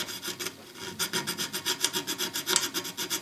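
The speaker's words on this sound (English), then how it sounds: "just a few minutes with needle files and getting into this throat here" Needle files working a thin metal casting by hand, a close, steady series of rhythmic rasping strokes, about three per second after a brief pause, with no talk.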